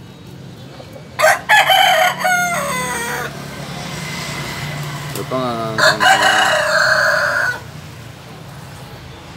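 A heavy fighting rooster of about three kilograms crows twice nearby, each long, loud crow rising and trailing off, with someone briefly speaking in Vietnamese and a faint background hum.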